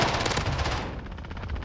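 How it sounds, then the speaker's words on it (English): Rapid gunfire rattles in Call of Duty: Modern Warfare, a dense, loud burst of closely spaced shots that continues through a short stretch and grows slightly thinner toward the end. "I do hear shotguns"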